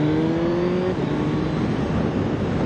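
A 2021 Suzuki Hayabusa motorcycle accelerates hard, its loud steady engine note climbing in pitch and then breaking as it shifts up a gear, with continuous wind and road roar throughout and no speech.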